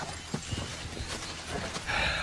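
Faint, uneven hoofbeats of a rope horse clop on hard ground beneath a noisy background, a few sharper knocks standing out.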